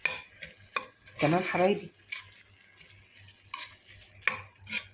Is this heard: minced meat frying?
yes